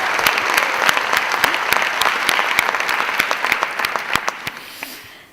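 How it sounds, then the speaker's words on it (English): An audience gives loud, close applause for student performers at an anti-hate event, with dense clapping that thins into scattered claps and then fades out. "a big round of applause for their lyrics, for their passion, for their leadership"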